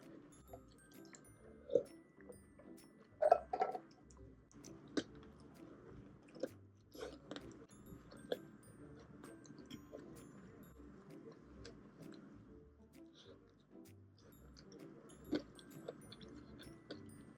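Sausage is chewed close to the mic, bursting on the bites, with repeated moist squishy chews and occasional sharper crunchy snaps spread unevenly over a long stretch, no talking.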